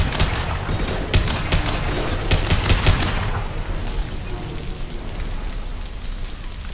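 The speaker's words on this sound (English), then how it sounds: "Firing a high-impact shot." High-impact weapon fire in Mass Effect 2 as a loud burst of rapid crackling shots over a dense, noisy background, the gunfire easing off after about three seconds into a softer sustained hiss.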